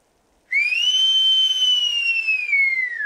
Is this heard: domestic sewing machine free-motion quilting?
no